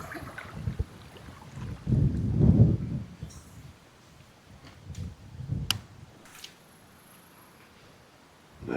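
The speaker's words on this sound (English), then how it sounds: "this wind is just insane." Gusting wind buffets the microphone out on a kayak on open water, loud low roaring bursts that swell and fade, with small knocks and splashes between.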